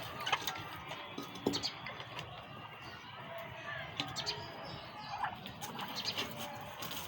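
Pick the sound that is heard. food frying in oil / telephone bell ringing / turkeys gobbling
turkeys gobbling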